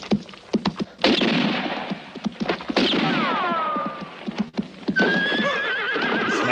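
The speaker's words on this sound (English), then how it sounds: "Horse almost falling on him." Horse in a 1966 spaghetti western whinnies loudly with long descending neighs, amid clattering hoofbeats and scuffling action noise throughout, a second high whinny rising near the end.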